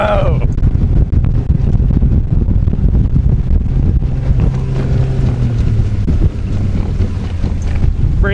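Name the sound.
Jones Brothers bateau boat running at speed on its maiden voyage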